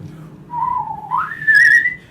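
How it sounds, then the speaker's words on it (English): A person whistles a bold tune during a tabletop fantasy role-playing game, one clear melodic line that rises in pitch and ends on a bright, loud sustained high note, with a low murmur underneath. "I whistle a bold tune"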